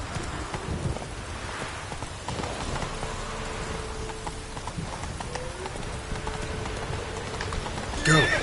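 Roach, a horse in the Witcher 3 video game, clip-clops steadily through a continuous rain-like wash, hoofbeats moderate and fairly close, with a brief sharp noise at the very end.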